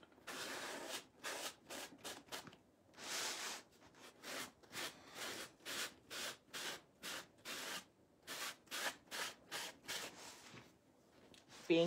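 Sandpaper rubs along the edge of a leather purse in quick, rhythmic back-and-forth strokes, a soft, close scratching repeated many times with brief gaps between.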